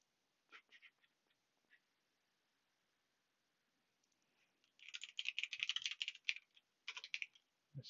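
Computer keyboard typing close to the mic: a few scattered keystrokes at first, then after a pause a dense burst of rapid clacking and another short flurry near the end, faint and with no voices.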